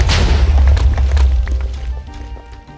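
Bomb blowing up in Minecraft, a single loud, close boom that rolls into rumbling debris and fades out over a couple of seconds.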